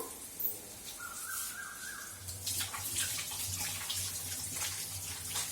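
Water runs from a tap as hands are washed during onion pakora preparation in a home kitchen, a steady close splashing with birds chirping faintly in the background.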